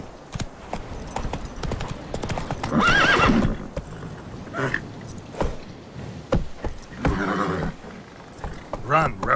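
Roach, a horse in a video game, gallops with rapid clip-clop hoofbeats and lets out a couple of loud whinnies, while a voice speaks between them.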